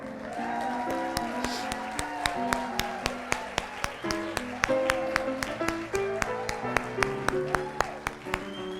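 A church congregation at a Sunday service claps in a steady, even rhythm of sharp, distinct claps while music plays underneath, each clap cutting clearly through the sound.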